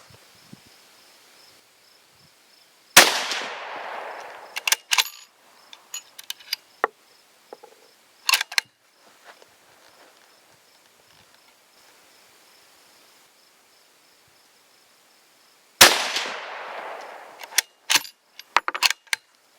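Savage Model 340 rifle firing old 30-30 Winchester ammunition outdoors: two sharp, loud shots spaced well apart, each followed by a rolling echoing decay and a series of metallic clicks and clacks from handling the action.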